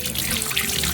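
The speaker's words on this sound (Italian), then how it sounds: "facciamo una prova con l'acqua fredda" Cold water runs steadily from a tap into a sink, a loud, continuous close rush with a splashing hiss and no voices.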